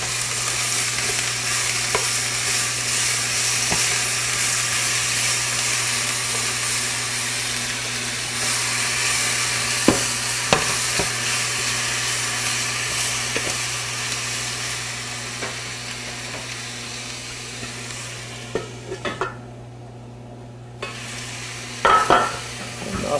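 Food sizzles in a pan with pepper added while it is stirred, giving a continuous loud frying hiss under scattered spoon scrapes. A brief lull near the end is followed by a few clacks.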